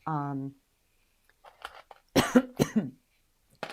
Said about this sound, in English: I'm sorry, I've got a bit of a cough today.